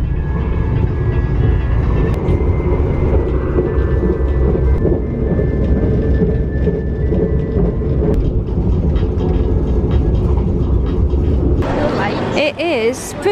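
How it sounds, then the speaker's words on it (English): A moving non-stop train to KL Central, Kuala Lumpur, makes a loud, steady rumble throughout, with muffled voices mixed in and a brief change in the noise near the end. "Non-stop train to the city."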